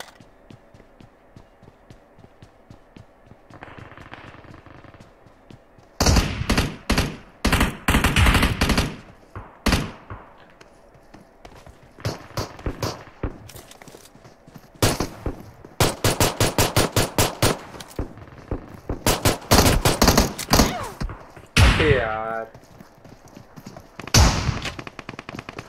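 Gunfire in PUBG Mobile comes in sharp automatic bursts separated by quiet gaps, some long rattling strings and some short volleys, loud and close with no talking over it.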